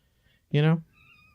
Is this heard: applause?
no